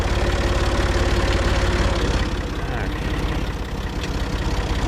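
A tractor engine running slowly and steadily while laying plastic mulch for pumpkins, a low rhythmic idle-like throb that dips slightly midway, with a voice talking over it.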